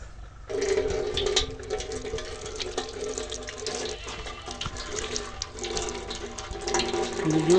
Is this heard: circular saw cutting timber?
no